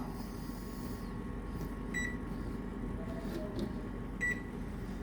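Beeps from a home oven control panel as the cook time is set, two short electronic tones about two seconds apart over a steady kitchen hum.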